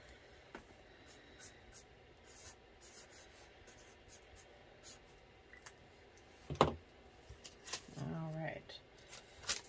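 A pen writes out a one-dollar IOU note for a cash-stuffing savings challenge, a faint, close scratching that sits under quiet room tone and ends in a few brief rustles of paper.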